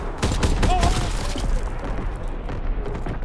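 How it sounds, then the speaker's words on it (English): Artillery shells crash in a Call of Duty WWII battle, a rapid fusillade of heavy booms and thuds rolling through the opening seconds before easing into rumbling aftershocks, with faint voices underneath. "Incoming enemy artillery."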